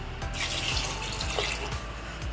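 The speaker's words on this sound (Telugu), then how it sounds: "ఇందులో రెండు గ్లాసుల వాటర్ని అయితే వేసేసుకుందాం" Water pours into a cooking pot for peas pulao rice: a continuous close splashing gush of liquid, steady for a couple of seconds, with no voice over it.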